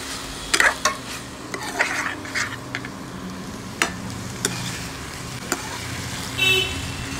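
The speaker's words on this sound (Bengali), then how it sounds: "মেশানো হয়ে গেলে পাস্তাগুলো দিয়ে এটাকে বেশ কিছুক্ষণ নেড়ে চেড়ে মেশাতে হবে" Pasta with garlic butter stirred in a hot pan, a continuous soft sizzle broken by sharp spatula clicks and scrapes against the pan at irregular intervals, with no voices.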